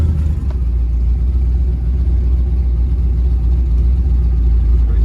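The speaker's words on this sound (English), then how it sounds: "I can hear them turbo spool a little bit." A twin-turbo LS engine in a G-body car runs with a loud, steady, deep rumble that drones evenly throughout, with only a faint hint of turbo whistle above it.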